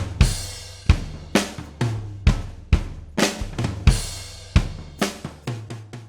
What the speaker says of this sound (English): Trigger has the ability to take drums that sound like this